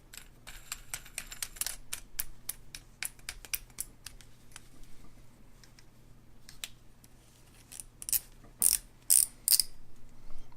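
Rapid ratcheting clicks from a KastKing WhiteMax baitcasting reel's clicker and star drag as it is reassembled after cleaning, in uneven bursts of close, sharp ticks with louder clusters near the end.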